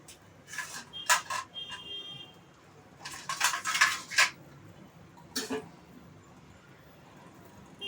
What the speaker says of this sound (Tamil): தட்டு போட்டு மூடி வேகணும் முருங்கைக்காய்.